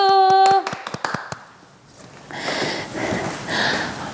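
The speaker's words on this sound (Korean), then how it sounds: "지금까지 도움 주신 최배영 선생님께 박수!" A sharp burst of clapping from an audience thanking a teacher at a children's outdoor safety lesson, preceded by a tone and a few loud isolated claps, then settling into softer, steady applause.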